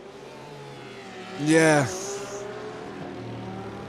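Porsche Cup race cars in a sim racing game at Red Bull Ring sweep past in a brief rising, then falling engine whine over a steady engine drone, as a commentator speaks around it.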